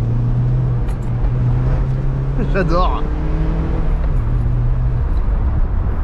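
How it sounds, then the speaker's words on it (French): Mazda MX5 with its 125-horsepower engine droning steadily while driving, a low constant hum throughout with a brief rising tonal sweep midway, a voice talking over it. "C'est le moteur de 125 chevaux."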